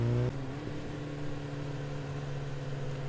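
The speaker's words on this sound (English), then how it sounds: "the loud engine now a somewhat reasonable hum" A motorcycle engine hums steadily while riding, a sustained low drone that follows a brief louder burst at the start, with no talking.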